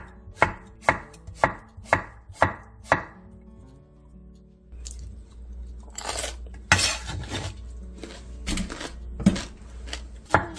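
A knife cuts cucumber into thin diagonal strips about 0.2 cm thick on a board, starting with eight or nine crisp, evenly spaced chops. A pause follows, then louder, more irregular cutting and clatter.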